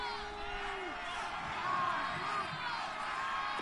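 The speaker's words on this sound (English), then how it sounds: "the crowd getting into it as we come up on a big 3rd down" A stadium crowd in a football video game keeps up a steady, broad roar at moderate distance, with a faint voice rising briefly above the din.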